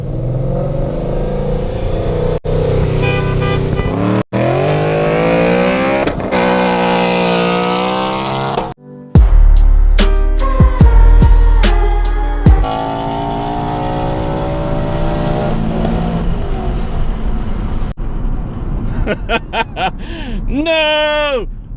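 A Nissan 370Z and a Ford S550 Mustang race flat out to redline, engines roaring loud and close with rising pitch sweeps, a sharp burst of gear-change pops midway, and a voice talking over the run.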